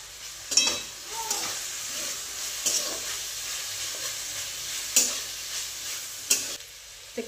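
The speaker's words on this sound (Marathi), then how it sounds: "तिखट टाकून चांगलं हलवून घेतले." Chili powder being stirred into a frying tomato and onion mixture in a pan, a soft continuous sizzle broken by about five sharp scraping spoon strokes at irregular intervals.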